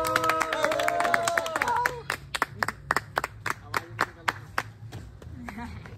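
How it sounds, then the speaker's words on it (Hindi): A small group claps at a school welcoming ceremony, first under a voice for about two seconds, then as sharp separate claps spread unevenly over the rest of the clip, close and fairly loud. "और ये एक ताली बजाओ।"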